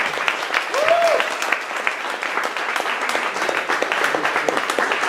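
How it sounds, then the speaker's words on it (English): An audience claps steadily for two speakers at a startup networking event, with dense, continuous applause that holds through the whole stretch, while a voice briefly speaks over it near the start. "let's give a big round of applause to these two guys"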